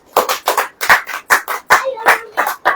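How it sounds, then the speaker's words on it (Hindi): A church congregation claps in a steady rhythm, about a dozen loud, close claps in under three seconds with no talk. "ताली बजाओ"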